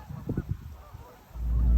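Canada geese give a few quick, close honks in a short burst, followed by a rising low rumble of background noise.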